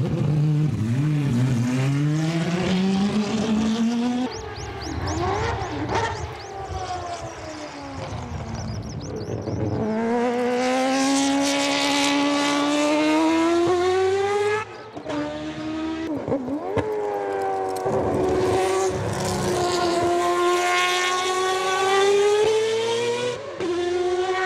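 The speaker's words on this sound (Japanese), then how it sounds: "そしてマツダのロータリーエンジン。" A Mazda rotary engine revving up and down repeatedly, its buzzing pitch rising and falling in smooth sweeps, loud and continuous throughout with no voices.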